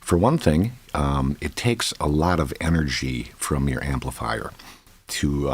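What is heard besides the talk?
No distinct noise like a dog, phone or traffic.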